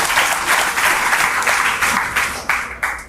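A studio audience at a kids' general-knowledge quiz for Bihar school students breaks into loud, sustained applause for a contestant, the clapping swelling and dipping in waves and ending in a few final bursts.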